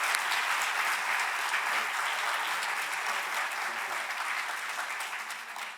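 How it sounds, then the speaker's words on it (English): Sustained audience applause at the Making an Exoneree 2025 showcase at Georgetown University, a steady dense wash of many clapping hands held at even volume for the whole stretch, easing slightly toward the end, with no voices on top. "And so please give these experts a round of applause."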